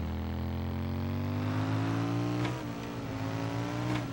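Chopper motorcycle engine in the PlayStation 2 game American Chopper, a loud steady drone that climbs in pitch as it accelerates, drops slightly and then holds, with no talking.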